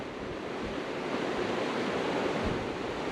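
The San Miguel River flows with a steady, broadband rush of water that holds evenly throughout, with no voices.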